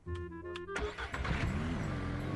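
A car engine in the farming video game Ranch Simulator cranks and catches, rising into a loud, steady mid-pitched running rumble that keeps going with a brief upward rev.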